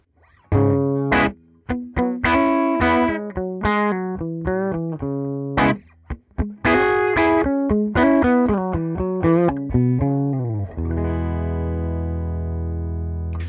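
Distorted electric guitar played through a '59 Bassman LTD amp simulation in Amplitube 5, on the bridge humbucker pickup, a string of picked single notes and chords with a thick, crunchy tone, ending on a sustained ringing chord.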